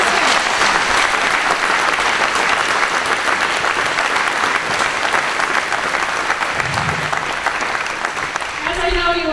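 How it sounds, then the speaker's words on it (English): A large indoor crowd claps steadily for Cub Scouts and Boy Scouts, dense sustained applause filling the room, with a voice briefly starting to speak as it fades at the end. "a round of applause for those great Cub Scouts and Boy Scouts"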